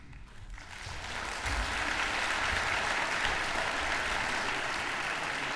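Sustained audience applause fills a school concert hall after a harmony band's 35th anniversary show, building quickly from a quieter start into a dense, steady wash of clapping that holds loud throughout.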